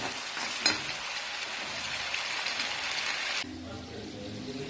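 Cut taro root (arvi) frying in oil in a pan, a steady close sizzle and crackle with a louder pop early on, thinning to a quieter bubbling hiss near the end.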